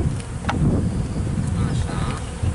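Honeybees at a hive during spring colony care buzz in a close, dense drone that holds steady throughout, with a few brief louder passes as individual bees fly near.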